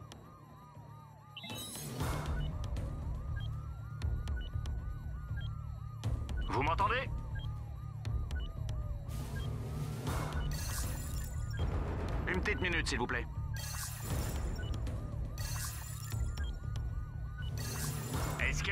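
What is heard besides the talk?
alarm ringing in South Park video game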